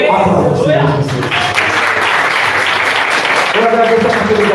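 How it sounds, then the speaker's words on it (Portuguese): A church congregation applauds during a worship service, a steady dense wash of clapping that blends with a preacher's voice speaking over it near the start and end. "Aplauda o Senhor Jesus."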